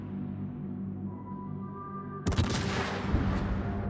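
Big naval guns firing in the warship game World of Warships, aboard the Italian cruiser Piemonte: a quiet engine hum, then one sudden heavy blast with rumbling, echoing tail.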